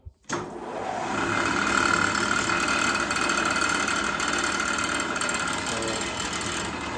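A reel grinder motor spins up the cutting reel of a Tri-Flex 3300 greens mower, starting abruptly and then holding a steady, loud mechanical whir with a faint high whine throughout.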